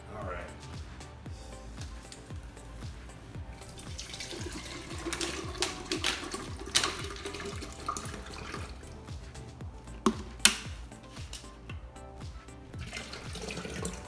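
Water runs from a tap into the reservoir of a Nespresso Vertuo Plus coffee machine, a steady close splashing flow with a few sharper drips, while someone talks over it.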